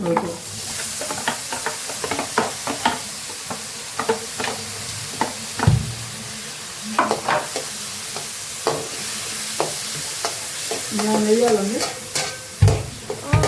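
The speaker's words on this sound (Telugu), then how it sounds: "నెక్స్ట్ టొమాటోస్ కూడా వేసేద్దాం. అవి కొంచెం వేగే పర్లేదు" Tomatoes frying in a pan for uggani, a steady sizzle broken by frequent scraping stirs and a few sharper clinks, close and fairly loud with no talking.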